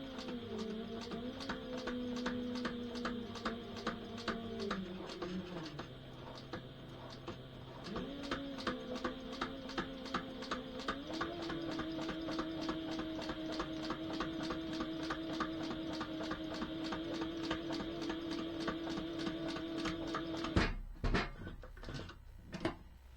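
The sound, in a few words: sewing machine stitching sailboat dodger pocket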